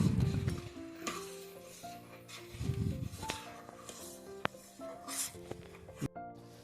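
A spoon stirs ground coriander and a finely ground coconut and poppy seed paste into a pot for vegetable pulao, making soft scraping, rubbing strokes with light sizzling and occasional clinks against the pot.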